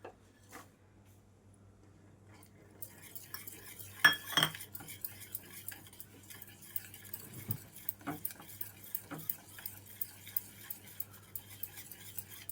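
A spoon scrapes and taps against a pan as 100 grams of dark compound chocolate is stirred until melted, giving soft irregular clinks and rubbing at close range in a quiet room.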